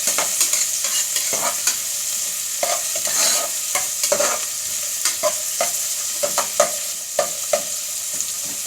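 Ginger fries in a pan for ginataang chicken wings, giving a steady close sizzle broken by repeated stirring scrapes and clinks, with no talk.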